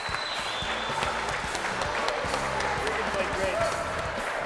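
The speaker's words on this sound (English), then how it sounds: "The crowd noise there as we look at the replay." Spectators at the US Open of Handball applaud and cheer after a match win, a dense, steady wash of crowd noise with sharp ball-like thumps mixed in.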